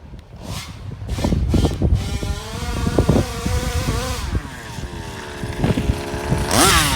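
A 34cc Rovan petrol engine in an RC car runs in a backyard, snarling close and loud as it revs up and down repeatedly, its pitch rising and falling in quick sweeps with sharp throttle blips, and no talking.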